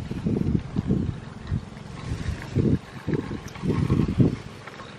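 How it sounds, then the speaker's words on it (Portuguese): Gusty wind in Japan buffets the microphone in repeated low bursts, loud and close, with a roaring rumble between the blasts. "tá ventando muito, muito,"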